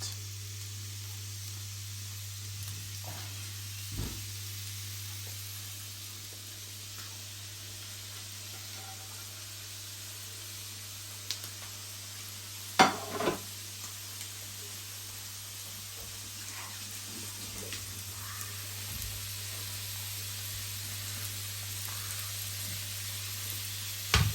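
Garlic, onions, peppers and chilies sizzle in a frying pan with a constant, close hiss, broken now and then by soft clinks and stirring knocks, and no talking.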